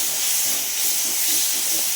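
Black pepper, cumin and tomato frying in oil with salt and turmeric for rasam, giving a loud, even, continuous hiss that holds steady from start to finish.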